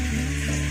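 Fish sizzling in hot oil in a pan, salted and with a little turmeric, while making a Bengali ol-chingri dish; a steady close crackling fry with no one speaking.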